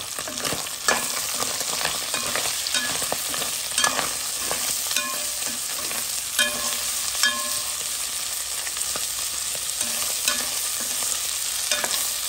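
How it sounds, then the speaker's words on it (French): Onions frying in a pot for rougail hareng, giving a continuous crackling sizzle close up, broken by repeated scraping and clinking stir strokes at irregular intervals, with no speech. "laisse les oignons fondre un peu"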